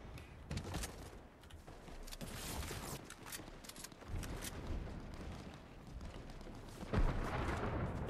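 Bursts of gunfire ring out in a chaotic Fortnite match, with sharp repeated shots and booming impacts scattered across the scene, some near and some distant.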